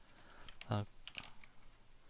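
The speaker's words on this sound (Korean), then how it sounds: "컨트롤 쉬프트 B키를 눌러서 이쪽 넘어오겠습니다" A few quick keystrokes on a computer keyboard while modeling in NX 3D CAD software: one firmer clustered press followed by lighter taps, close and fairly soft.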